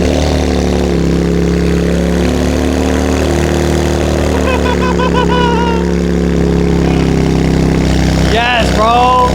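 A Nissan 400Z with freshly installed downpipes runs loud and close, its deep, throaty idle droning steadily before a sharp burst of revving crackle near the end, with voices partly mixed under the engine.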